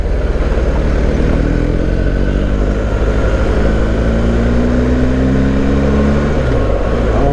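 BMW GS1250 motorcycle with a big-displacement engine on a test ride, its steady loud drone rising and falling in pitch as the rider works the throttle, with constant wind rush and no talk.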